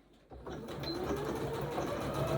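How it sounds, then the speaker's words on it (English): A sewing machine runs close and steady, stitching across a fabric headband channel to hold the elastic inside, with a rapid even mechanical whir that starts abruptly. "So there, I've stitched through the channel and through the elastic inside."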